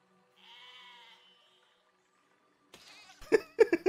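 A sheep bleats once in Besiege, a harmonic, wavering cry of about a second, followed after a pause by loud thumps and clatter of game action.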